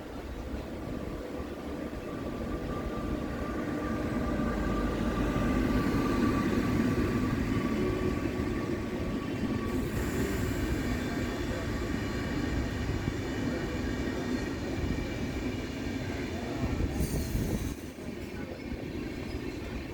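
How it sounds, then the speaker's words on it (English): A Trivandrum North Superfast Express hauled by a WAP5 electric locomotive rolls into a station: a steady, loud rumble of wheels and carriages on track throughout, with brief hissing bursts partway through. "Trivandrum North Superfast Express pulling into the station"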